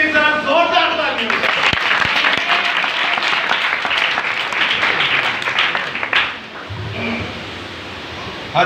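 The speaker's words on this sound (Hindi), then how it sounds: "अपने लिए जरा जोरदार तालियां" Loud, dense clapping from a church congregation carries on steadily for several seconds, then thins and fades, with a voice starting to speak over the dwindling applause.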